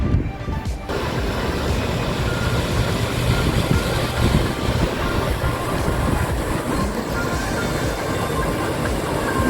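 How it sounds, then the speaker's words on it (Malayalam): A small private yacht motors along the Dubai Water Canal, its steady engine rumble and churning water filling the scene continuously at close range, with no voices. "ഒരു ബോട്ട് വരുന്നുണ്ട് കേട്ടോ"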